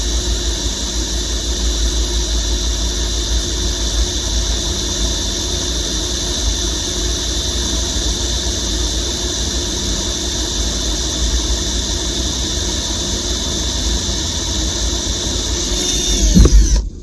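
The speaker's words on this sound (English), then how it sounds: "I just used a little water for this because I'm not drilling too many holes" A power drill runs for a long stretch while drilling holes with water cooling the bit, a continuous loud high-pitched whine and squeal over a low hum, ending with a brief louder burst.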